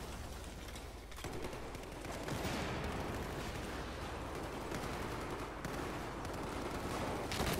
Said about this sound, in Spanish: yo sigo metiendo por ahí balazos